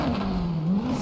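A car engine in GTA V revs steadily at a high, sustained pitch, a loud close-up whine that dips slightly and climbs again without pause.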